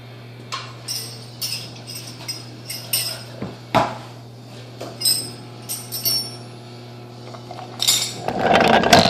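Metal wrenches clinking and rattling as someone rummages through a pile for a 9/16 wrench while working on an Exmark Metro mower axle, bright irregular jangles close by over a steady hum.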